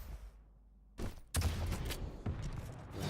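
Light machine gun fire in a video game duel, a quiet opening followed by a sudden loud burst of rapid shots that keeps rattling to the end.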